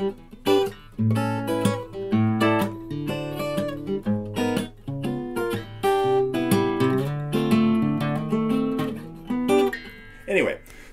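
Solo guitar version of a jazz standard, plucked chords and melody notes ringing clearly in a relaxed, swinging rhythm, played alone at moderate volume.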